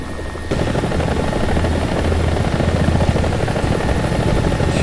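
A Mi-24D attack helicopter in the War Thunder combat game, flying near Syria, roars with a loud, close, continuous rotor thump and engine drone that kicks in after a brief quieter moment.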